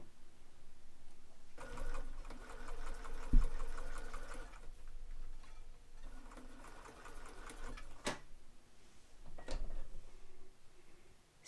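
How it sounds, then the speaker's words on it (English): A sewing machine runs in short bursts as it stitches the last side of a fabric pattern weight, its needle chattering rapidly and close by, with pauses and a couple of sharp clicks between runs. "now we're going to sew up the last side of the pattern weight"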